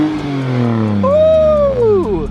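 A BMW 328i 3 Series, brought back to life with a junkyard engine, runs and revs up close, its rising engine note loud and steady over a couple of seconds.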